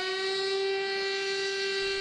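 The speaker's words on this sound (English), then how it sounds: "sirens wailing" A sustained siren wail at China's state memorial for Nanjing Massacre victims, holding a steady, piercing tone, loud and continuous throughout.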